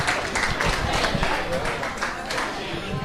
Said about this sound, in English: band a round of applause